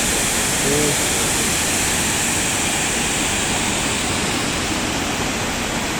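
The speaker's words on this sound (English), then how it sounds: "This looks like a cool water feature" A city water feature in Hiroshima, Japan, gives a loud, steady, broadband rush of splashing water that fills the scene continuously without pause.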